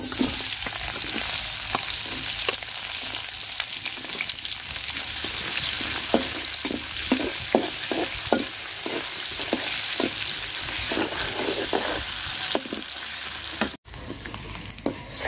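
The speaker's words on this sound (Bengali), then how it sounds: "পেঁয়াজটা আমি ভাজা ভাজা করে নিচ্ছি, পেঁয়াজ আর মরিচ।" Chopped onion and chili frying in oil left over from frying tilapia, a dense hiss carrying a quick run of spatula scrapes and taps, then a brief cutoff near the end.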